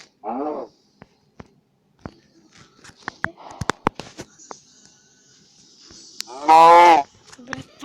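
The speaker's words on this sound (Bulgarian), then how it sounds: "Това е крава" Two cow moos, a short one near the start and a louder, longer one toward the end, separated by scattered clicks and knocks.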